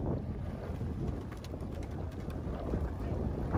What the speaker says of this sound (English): it's blowing 20 miles an hour